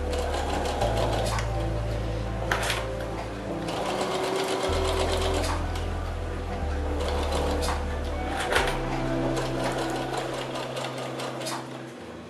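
A sewing machine runs steadily while stitching a fabric bowl holder, its motor humming in continuous stretches with brief pitch changes between runs, close and loud throughout.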